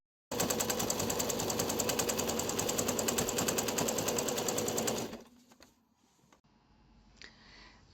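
An overlock machine stitches a seam on a two-sided coat, running in a loud, steady, rapid mechanical chatter for about five seconds before it stops abruptly, leaving faint handling noises.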